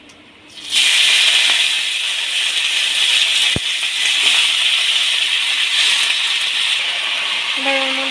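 A sudden loud hiss and steady sizzle as vegetables drop into hot oil in a pan, continuing strongly for several seconds after a sharp clatter.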